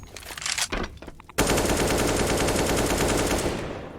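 Counter-Strike gunfire on the Train map as players try for wallbangs: a few separate shots, then a sudden loud, sustained burst of automatic fire that continues to the end.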